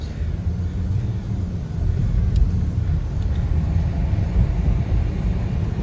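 Steady, loud low rumble of many cars streaming along a road at night, a continuous broadband traffic wash with no single vehicle standing out and no talk.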